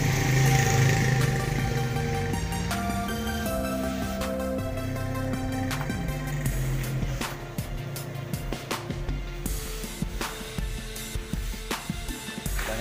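Motorcycle engine running after a carburetor repair, a steady close idle that shifts to an uneven, pulsing rhythm as the throttle is worked, with no talk over it.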